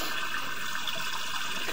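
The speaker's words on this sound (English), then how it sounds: "continuous running water causing the sound of running water in the unit" Continuous running water inside a rain drain line, heard through a cleanout, a steady hollow rushing flow without pauses or talk.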